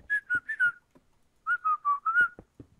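The whistled intro melody of a pop song plays as two short, bright phrases of four notes each, separated by a brief pause, clear and close.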